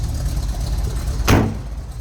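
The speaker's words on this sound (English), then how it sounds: "Oh, nice, that door closes" The door of a 1959 Chevrolet Apache 3200 Fleetside pickup with a 327 engine shuts with a single solid thud, set against a low engine idle rumble in the background.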